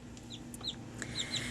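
Black-skinned silkie cross hen clucking and softly chirping in a chicken yard, a few short high notes scattered over steady background hum, faint and without talking.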